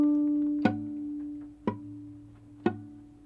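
A guitar fingerpicked with flattened fingertips that touch and mute neighbouring strings: three evenly spaced plucked attacks over a thin ringing chord, close and fairly quiet, with no voices.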